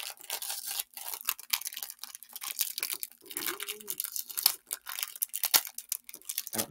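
Packaging from a trading card game collectors chest being torn open by hand without scissors, close crinkling and ripping in irregular bursts with short quiet gaps between pulls.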